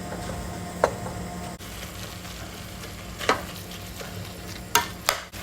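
Beef mince fries in a pan with a constant low sizzle, while a utensil stirs and scrapes it in a few distinct sharp knocks spread unevenly across the stretch.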